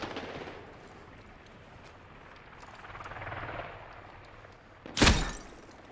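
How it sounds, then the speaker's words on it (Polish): Medal of Honor Warfighter gunfire: a single loud, sharp shot cracks near the end after a low rumbling battlefield ambience, with no talk. "O, ktoś już do mnie strzela"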